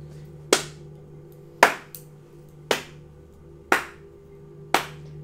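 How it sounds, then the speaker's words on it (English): Five single, sharp claps spaced about a second apart in an evenly paced rhythm, each ringing briefly in a quiet room over a low steady hum. "The clapping sound now the only thing you are able to hear"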